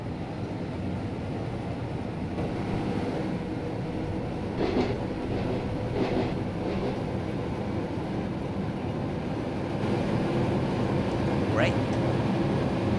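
A passenger train rumbles along in Train Simulator 2016, a steady loud low roar with a few brief clanks and a squeal, while someone talks over it.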